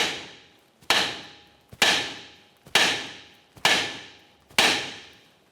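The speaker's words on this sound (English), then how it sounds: "we'll continue on with a hammer and we'll give this a couple loving bonks to try to break it free" A hammer strikes the outer tie rod end on a 1994-2002 Dodge Ram 2500 to break it free from the steering knuckle: six evenly spaced, loud, close metallic bangs, each ringing briefly before the next, with no talking.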